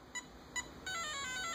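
A Castle Creations electronic speed controller entering programming mode gives two short, faint beeps, then a steadier tone sequence follows, with no one talking.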